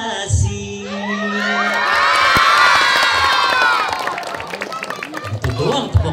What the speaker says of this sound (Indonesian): Itu doang tepuk tangan.